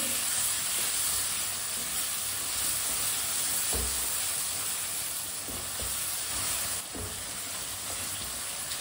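Red chili powder and turmeric powder sizzle steadily in hot oil in a pan, a continuous close frying hiss with a few soft stirring knocks and no talk.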